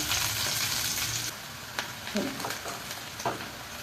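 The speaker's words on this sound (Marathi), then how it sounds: "तेल गरम झालेलं त्यामध्ये जिरं मोहरी घालायचं आणि कांदा घालायचा" Onion with cumin and mustard seeds frying in hot oil, a steady broadband sizzle that settles down partway through, with a few brief stirring clinks and scrapes near the pan.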